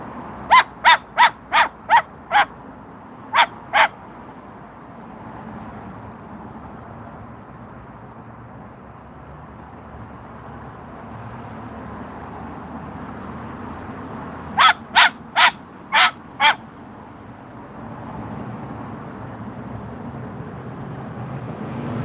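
A dog named Max barks in two bursts, a quick run of about six sharp barks followed by a couple more, then after a pause another run of five, fairly close against quiet background hum.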